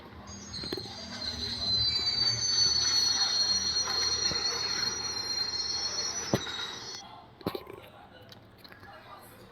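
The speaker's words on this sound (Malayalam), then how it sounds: "ഞാൻ ഓടുകയാണ്, കാരണം ട്രെയിൻ വരുന്നുണ്ട് കേട്ടോ" An approaching train in the Indian Bike Racing 3D video game, horror mode, gives a loud, sustained metallic wheel squeal over a rolling rumble that fades near the end, with a faint voice underneath.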